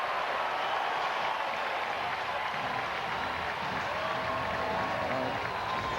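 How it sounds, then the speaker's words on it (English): Broad, steady crowd noise from a sparse crowd at a baseball game at Dolphin Stadium, a continuous wash of cheering and clapping without a break, with no talk over it. "Crowd comes alive, sparse here at Dolphin Stadium."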